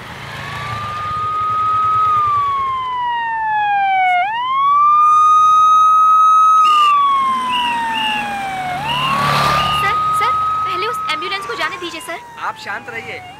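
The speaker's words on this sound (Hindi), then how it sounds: "सुबह से शाम तक 500 एम्बुलेंस आती जाती है" A wailing ambulance siren passes loudly and close by in a busy city traffic scene. Its rising and falling tone swoops and shifts in pitch as it goes by, over background traffic noise.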